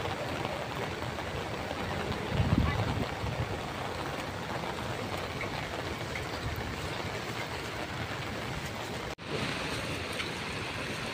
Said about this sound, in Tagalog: Ang lakas pati ng agos